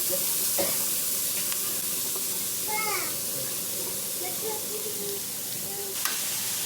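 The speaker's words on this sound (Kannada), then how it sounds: "ಈಗ ಆನಿಯನ್ ಫ್ರೈ ಆದಮೇಲೆ ಈರುಳ್ಳಿ ಫ್ರೈ ಆದಮೇಲೆ ಹಲಸಿನಕಾಯಿ ಹಾಕ್ಕೊಳ್ಳೋಣ" Onions fry in a pan for a jackfruit curry, giving a steady, close, hissing sizzle that runs the whole time with a few faint utensil taps.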